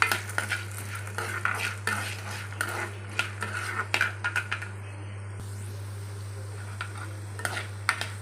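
A cup of roasted gram goes into a frying pan for a potato and Bombay rava mixture, and a spoon stirs it with repeated scraping clinks against the metal over a faint sizzle and a low steady hum.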